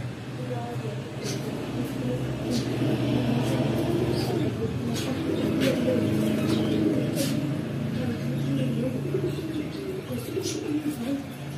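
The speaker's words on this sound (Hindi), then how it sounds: "ये सारे कबूतर रंजीश पाल साहब एक साइड पर रखे हैं।" Soft, low cooing of pigeons in a bird setup in Charhoi, Azad Kashmir, runs steadily through a busy background hum, with occasional voices and faint clicks mixed in.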